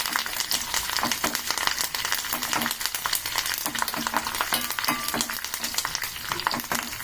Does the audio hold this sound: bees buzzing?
no